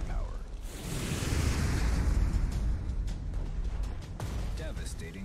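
A torpedo explodes in Strategic Mind: The Pacific, a World War II naval strategy game, with a deep, heavy boom that rumbles on for several seconds before it fades, and no voices over it.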